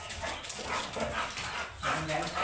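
An American Bully dog whimpers and gives a short bark nearby during breeding, heard faintly under people talking.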